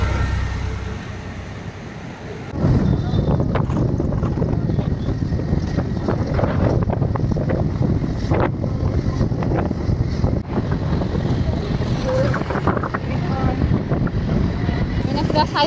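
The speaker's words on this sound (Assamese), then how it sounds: "বতাহ আহি আছে ধুনীয়া" Wind blows outdoors on a cool, breezy day, a steady broadband rush buffeting the microphone that jumps louder after a couple of seconds, with faint voices and background noise underneath.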